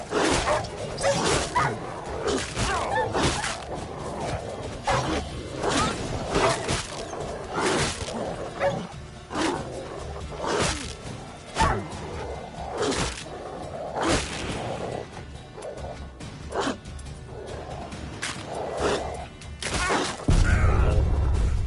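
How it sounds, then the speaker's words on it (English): Dogs in The Witcher video game bark and snarl as they attack, with dense, overlapping yaps and growls mixed with sharp whooshing combat hits. The sound is loud and continuous for about twenty seconds, and a heavy low rumble comes in at the end. "Don't fuck around with fucking dogs, bro."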